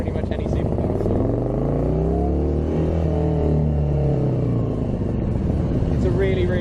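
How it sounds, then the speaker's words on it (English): Morgan 3 Wheeler engine revving hard close by, its rumbling note sweeping up and down in pitch through one long rev, with people talking over it. "It's a really, really revvy engine."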